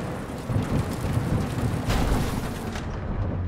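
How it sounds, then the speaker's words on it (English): A heavy thunderstorm in the video game Cyberpunk 2077: dense, steady rain hisses throughout beneath a deep, rolling rumble of thunder that swells in the middle and fades toward the end. "That is one hell of a storm!"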